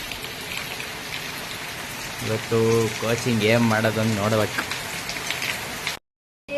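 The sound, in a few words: heavy rain falling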